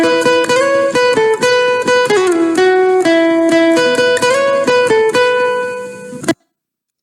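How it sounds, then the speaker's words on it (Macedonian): A plucked melody on a guitar, bright harmonic notes following one another in a steady tune, clear and close, ending abruptly into silence. "Точно така, тоа е звук на гитарата."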